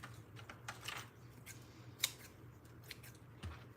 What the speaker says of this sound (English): now I'm gonna go ahead and trim up the edges